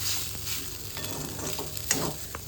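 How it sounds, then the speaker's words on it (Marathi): Leftover cooked rice reheats in a kadhai, sizzling and crackling steadily while a spoon stirs and scrapes it, with a few louder scrapes standing out up close. "आता त्याच्यात कढईत गरम करते म्हणजे आम्ही खाऊ शकतो तो."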